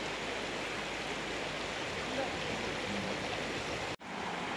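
A river flows steadily at the bank, giving a constant broad rush of water that holds even throughout, briefly cut by a sharp dropout near the end.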